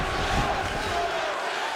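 Crowd noise swells in a UFC 5 video game fight as the fighters return to their feet after a long grappling exchange, a steady loud roar of cheering throughout.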